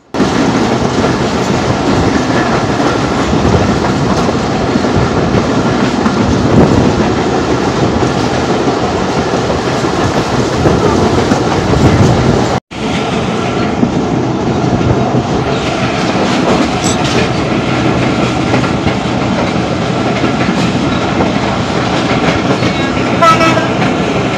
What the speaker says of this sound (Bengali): আমাদের ট্রেন থ্রু পাস যাবে এখন পার্বতীপুর লোকোশেড।